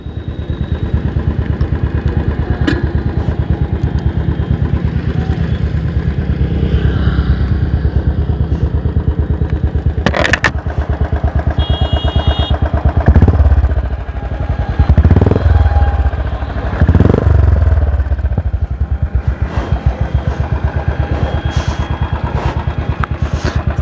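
Motorcycle fitted with a new exhaust rumbles loudly and close while riding, a steady throbbing engine note with revs rising and falling and sharp popping backfires breaking through midway.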